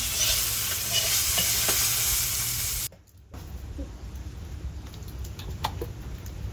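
Rohu fish sizzles loudly in a kadai of oil. The sound cuts off abruptly, then resumes as a quieter frying hiss with scattered stirring scrapes and clicks.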